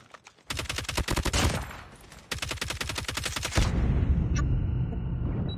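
Rapid automatic gunfire in a shooter video game firing range, two long loud bursts of close, evenly spaced shots separated by a short pause, followed by a lingering low rumble and a faint click.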